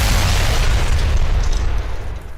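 A loud, sustained explosion sound effect fills the whole stretch with a deep rumbling boom and broad crackling roar that slowly thins toward the end, with no talk over it.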